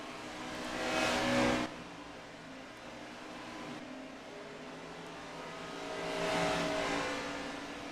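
A race car in a stock-car racing game holds a steady engine drone, its pitch dropping sharply under hard braking before the throttle swells again, with a second surge of acceleration near the end.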